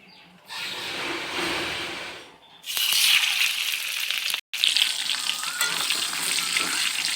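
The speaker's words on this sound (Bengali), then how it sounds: "তেল গরম হয়ে গেছে এবার আমি মাছটা ভেজে নেব" Fish coated in turmeric powder sizzling in hot oil in a village kitchen, a loud, steady crackle that starts after a short lull and carries on with no voices over it.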